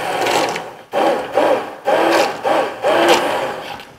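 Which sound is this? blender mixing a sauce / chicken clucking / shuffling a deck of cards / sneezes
blender mixing a sauce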